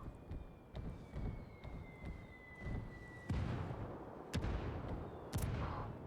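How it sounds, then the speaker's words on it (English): Mortar strikes in the tactical shooter Ghost War land as several loud, sharp booming impacts. Each blast leaves a rumbling tail, with a steady high tone running underneath. "Ooh, that's a good mortar."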